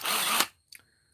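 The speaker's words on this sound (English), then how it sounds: "It is a fairly long drill driver." A Hart 20V drill driver, a Walmart value-brand cordless tool, whirs steadily for under half a second at close range, then cuts off, followed by a faint brief mechanical click.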